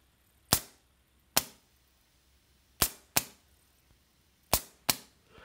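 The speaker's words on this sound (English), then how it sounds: "You can hear the relays click." Relays in a low-cost electro-pneumatic setup click sharply, in six separate snaps that come singly and in close pairs with quiet gaps between them, near and distinct.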